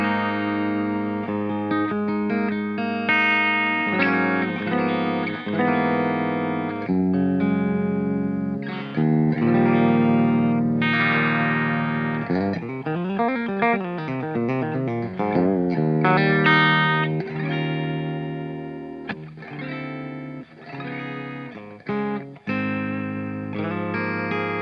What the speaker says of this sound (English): So first let's hear the magnetic pickups with a clean tone.